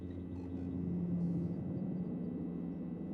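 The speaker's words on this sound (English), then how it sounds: "Helicopter sound effect." A helicopter in the sci-fi game Prey (2017), a steady low mechanical drone and hum that stays even and moderately distant, alone without talk.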